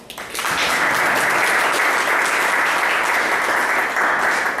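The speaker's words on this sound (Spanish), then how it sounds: "Un aplauso para Fico." Audience at a history talk on Túpac Amaru and Micaela Bastidas applauding a guest, a loud, continuous crowd of clapping hands that starts abruptly and stays full for several seconds.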